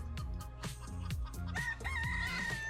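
A rooster crows close by, its harsh strained call rising over a background of clucking hens and other fowl, loud and mostly alone, with a second bird joining in near the end.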